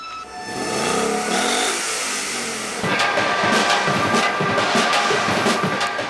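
A Ford Mustang GT with a 5-litre V8 accelerating on a track, the engine note climbing steadily through a gear before a shift, then pulling hard again as a loud, gritty roar with no talking.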